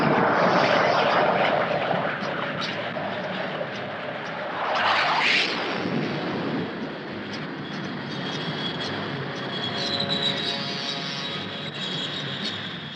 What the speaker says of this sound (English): Melbourne is preparing to launch some of her fighter aircraft on another mission.